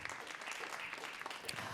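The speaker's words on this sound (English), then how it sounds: "can I get a round of applause for our wonderful GBH crew?" An audience applauds the GBH crew, a steady patter of many hands clapping, faint and somewhat distant, lasting briefly.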